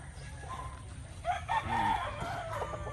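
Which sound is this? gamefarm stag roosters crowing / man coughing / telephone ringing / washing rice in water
gamefarm stag roosters crowing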